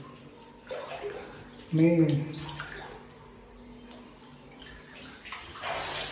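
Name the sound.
water flowing from temple lingam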